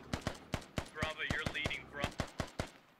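Bursts of .50 caliber machine gun fire in the video game Squad, rapid regular shots in short volleys, with voices chattering over the middle of the burst.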